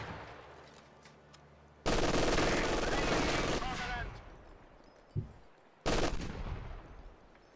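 Machine gun fire in a Company of Heroes style WWII strategy game, loud broadband bursts of sustained gunfire with a sharp pop between them, cutting in and out over quieter battlefield ambience.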